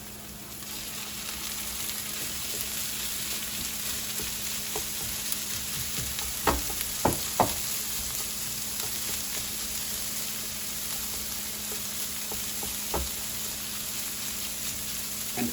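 Onions sizzling in a very hot pan, a steady loud crackling fry throughout with a few sharp clinks from stirring near the middle and later on.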